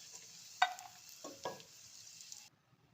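Cashews and almonds roasting in ghee give a faint, steady sizzle, broken by a couple of soft clinks and scrapes as a spoon stirs the pan, then the sizzle stops.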